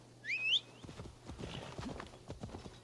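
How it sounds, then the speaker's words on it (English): A horse galloping in Assassin's Creed opens with a brief whistle call, then close, rhythmic clip-clopping hooves carry on steadily. "better call my horse"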